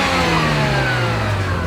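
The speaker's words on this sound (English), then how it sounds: "the new Renesis rotary engine develops 210 horsepower" Mazda RX8 with the 210-horsepower Renesis rotary engine revs steadily and loudly, a continuous sustained engine drone running close and alone for under two seconds with no talk.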